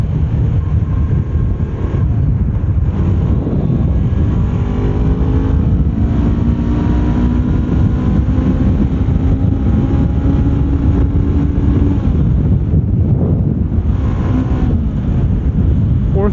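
A Honda CBR 500R motorcycle pulls hard through a gear, its engine note rising steadily under heavy, close wind rush with no talking.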